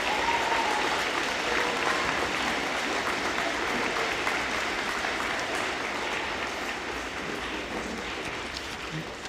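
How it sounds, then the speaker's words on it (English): A crowd at a park groundbreaking ceremony in Sioux Falls claps in steady, dense applause that holds for about nine seconds and slowly tapers off, with no talking over it. "Let's clap for those people that did that."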